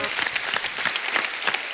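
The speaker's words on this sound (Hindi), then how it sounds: "जोरदार तालियां।" Loud, steady applause from the studio audience of a Hindi comedy show, a continuous wash of clapping throughout.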